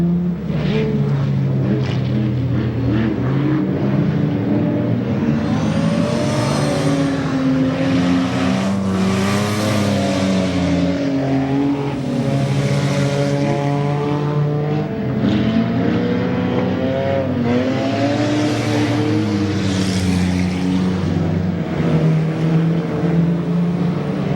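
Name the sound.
race cars driving at Goods Raceway enduro race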